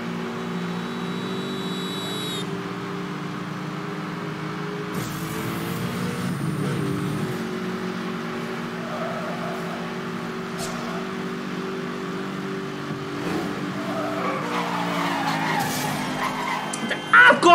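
Race car engine drone and tire skidding from Need for Speed Hot Pursuit 2010 run steadily throughout, with shifts in pitch as the car slides and accelerates, and brief sharper noises near the end.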